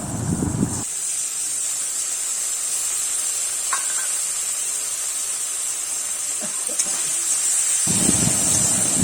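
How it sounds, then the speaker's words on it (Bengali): Beaten sour yogurt goes into a sizzling fish curry, setting off a loud burst of frying hiss that settles into a steady sizzle and steam, swelling again near the end. "এবার দিয়ে দেবো ফেটিয়ে রাখা টক দই"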